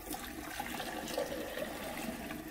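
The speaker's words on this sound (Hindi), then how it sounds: "इसमें ये मैंने एक मग जो है पानी का वो इसमें डालूंगा" A mug of water poured into a tea machine, a short steady splashing gush of liquid filling a container at close range, moderately loud throughout with no talking.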